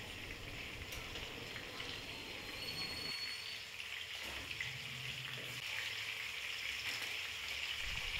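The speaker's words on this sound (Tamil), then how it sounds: "இந்த சிக்கன் அப்படியே பொரிஞ்சிட்ருக்கிட்டு நம்ம அதுக்குள்ளேயே இந்த வெங்காயத்தை வதக்கிட்டு இருக்கலாம்" Chicken pieces for Kerala-style poricha chicken fry in a pan with a soft, even sizzle and gentle watery crackle, faint and continuous throughout with no talking.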